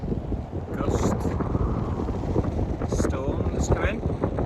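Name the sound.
strong wind gusts on an anchored catamaran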